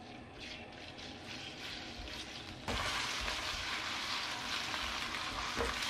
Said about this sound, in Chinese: 再来往锅里倒入少量的油，油微热以后，加入切好的肉进去翻炒